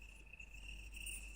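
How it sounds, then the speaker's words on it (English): Crickets chirp in a steady, high, continuous trill at a quiet evening gathering, faint and even with no voices over it. "I love the crickets. They're just flowing when it's silent."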